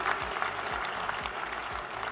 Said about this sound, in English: a big round of applause for the successful people sitting here.